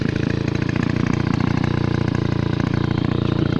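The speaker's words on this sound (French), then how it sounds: "moteur remonté, le ralenti qui tient" Rebuilt GT10 moped engine idling steadily, a close, constant two-stroke putter with an even rapid pulse and no throttle changes, alone without talk.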